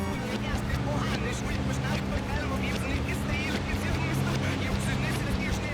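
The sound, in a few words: racing cars in Gran Turismo 4 video game on PS2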